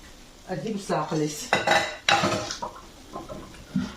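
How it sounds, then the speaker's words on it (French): A lid is set onto a frying pan of potato gratin with Gruyère over low heat, producing several close metallic clanks and clatters, with a faint sizzle between them. "on va mettre un petit couvercle"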